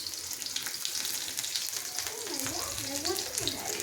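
Garlic fries in a hot pan with a steady, close hiss and crackle that runs throughout, while a voice talks quietly over it partway through.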